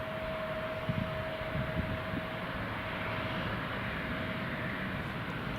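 Logan Air airliner lining up on runway 07 at Newcastle International Airport, a steady distant jet engine roar with a faint whine, continuous and fairly quiet, with no voices.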